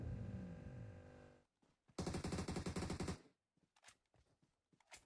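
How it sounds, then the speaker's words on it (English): Gunfire in a PUBG Mobile match, where AMR sniper shots sound among other weapons: a long sustained burst, a second loud rapid burst, then scattered lighter shots and clicks. "kill feed is alive with the sounds of the AMR there"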